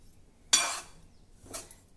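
A spoon scrapes and clinks against a pan while laddu mixture is stirred and roasted on a low gas flame: two bright metallic scrapes about a second apart, close and fairly soft, with nobody speaking.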